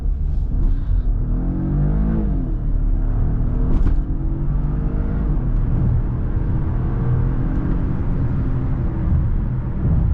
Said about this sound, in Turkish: Yeşil yanında bir gaza basayım bakalım.